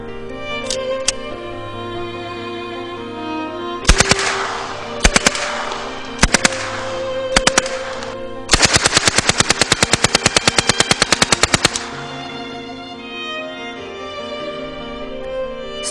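An Uzi blowback submachine gun replica fires several sharp single shots and short bursts, then one long rapid automatic burst, loud and close with ringing echoes in a quiet room.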